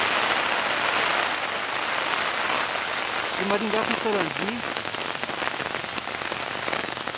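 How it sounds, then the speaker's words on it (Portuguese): Heavy, steady rain pours down without letup in Sarandi near Maringá, Paraná, a dense constant hiss close by, with someone talking over it. "Está chovendo desde ontem."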